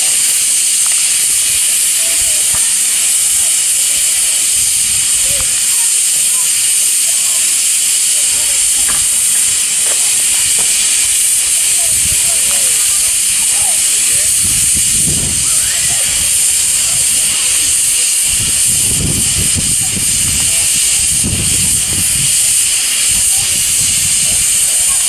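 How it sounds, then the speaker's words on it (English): A miniature Flying Scotsman 4472 steam locomotive at a miniature railway hisses steam in a loud, steady, continuous rush, with faint low rumbles and bumps beneath it. "And the Flying Scotsman miniature steam locomotive."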